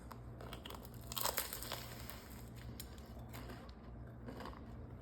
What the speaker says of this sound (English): So that tortilla's nice and crunchy.